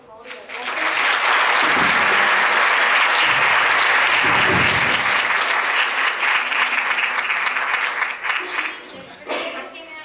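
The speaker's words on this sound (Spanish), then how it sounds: "Entonces le damos un aplauso, por favor, y las gracias." An audience at a formal ceremony breaks into loud, sustained applause that builds quickly, holds strong for several seconds and then tapers off into scattered claps near the end.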